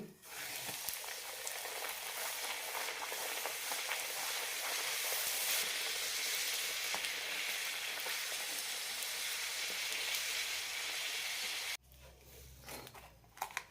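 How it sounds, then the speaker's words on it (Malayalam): Bedmi poori deep-frying in hot oil gives a loud, steady, dense sizzle that runs unbroken for about twelve seconds, then cuts off abruptly, leaving quieter kitchen handling noises. "നല്ല ചൂടായ എണ്ണയിൽ തന്നെ വറുത്തെടുക്കണം"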